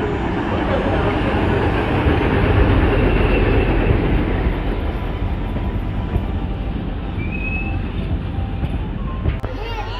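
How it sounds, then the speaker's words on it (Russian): A small children's railway train arrives at a station in Khabarovsk, rumbling close by with steady clattering and a faint wheel squeal, while people talk faintly in the background. "Поезд прибыл, он будет стоять на станции 15 минут."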